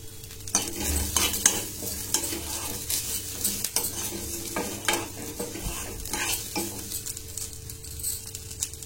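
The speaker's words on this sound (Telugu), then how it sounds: "ఇలా మొత్తం అంతా కలుపుకొని వేయించండి. ఒక 2 నిమిషాలు వేయిస్తే సరిపోతుంది." Peanuts, coconut and other chutney ingredients fry in a pan with a soft continuous sizzle as a metal spoon stirs and clinks against the pan in scattered taps, close and steady throughout.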